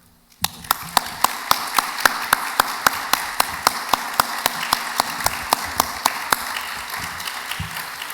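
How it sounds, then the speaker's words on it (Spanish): After a brief quiet moment, clapping starts abruptly in a university auditorium welcoming a professor to a lecture, with one sharp, regular clap standing out above softer background applause. "recibimos con un fuerte aplauso al profesor Regidor"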